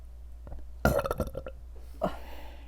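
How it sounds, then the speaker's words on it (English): A person lets out a burp while eating a dozen vegan fried chicken nuggets, a close, croaky eructation with a few short guttural pulses followed by a softer second burp. "I need a burp."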